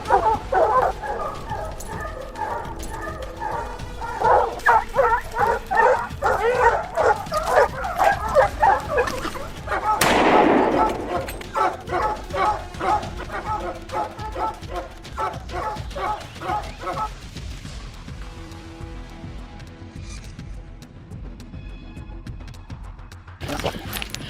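Hunting dogs trained to follow mountain lion scent give rapid, overlapping baying and yipping barks from a pack. A loud burst comes midway, and the barking thins and grows fainter toward the end.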